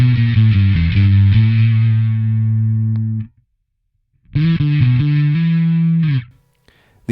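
A bass guitar runs through a Darkglass Microtubes X 900 amp with an NSG noise gate, giving a thick, distorted, chorused tone. Two sustained notes ring out loudly and alone, each cut off abruptly into silence.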